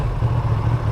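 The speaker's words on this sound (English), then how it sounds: "That exhaust, it barks." Ducati Streetfighter V2 motorcycle idling at a roadside petrol station, its exhaust giving a steady, loud low-pitched rumble with a slightly uneven throb, close by with no talk.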